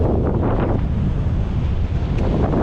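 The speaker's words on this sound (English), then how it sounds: "the wind is blowing in our faces really fast" Strong wind buffets the microphone of someone cycling uphill into a headwind, a loud, steady roar that drowns everything else and never lets up.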